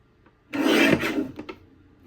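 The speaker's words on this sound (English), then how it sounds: "We're gonna cut quite a few strips out of this." A paper trimmer slices a single strip from a sheet of paper, a brief close rasping stroke followed by faint handling sounds.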